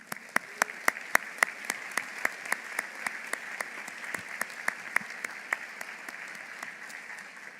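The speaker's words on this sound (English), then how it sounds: "Give yourself a round of applause for a job well done." Audience applause at a doctoral graduation ceremony: a steady run of crisp, evenly spaced claps close by over a diffuse wash of distant clapping from the hall, lasting several seconds.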